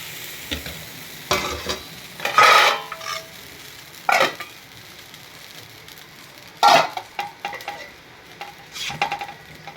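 Uttapam batter on a hot pan gives off a low sizzle, broken by several short bursts of scraping and stirring with a utensil against the metal, close by and without speech.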